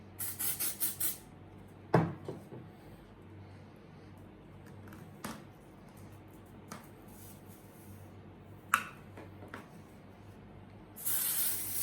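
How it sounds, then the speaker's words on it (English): Full and Luscious Volume Booster texturizing hairspray is sprayed at the hair roots in short hissing bursts close to the mic: a quick rapid series at the start, a few single puffs in between, then a longer spray at the end. "So I just sprayed at the roots actually."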